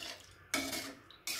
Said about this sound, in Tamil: நல்லா மிக்ஸ் பண்ணிவிடுங்க சிக்கனும் ரைஸும் தண்ணியெல்லாம்.